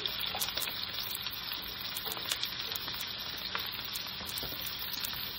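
Ginger and onion sauté in a hot pan with a steady, fairly quiet sizzle, broken by small crackles and pops and an occasional stir, with no talking.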